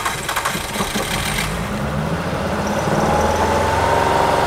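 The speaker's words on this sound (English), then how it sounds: "there's our engine running" A car engine catches after cranking and settles into a steady, loud running drone close by, its pitch rising slightly as it keeps going during an ignition coil test.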